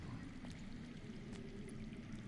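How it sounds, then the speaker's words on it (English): Underground water in a cave scene from Telltale's Game of Thrones video game flows as a faint, steady, muffled rush and trickle, with no voices over it. "I hear water. From underground."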